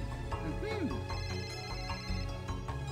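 A phone-call ringtone chimes in the Mario & Luigi: Dream Team video game, a short electronic jingle heard amid the game's music and effects, with a voice talking over it.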